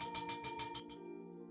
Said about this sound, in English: There's the bell. All right, here we go.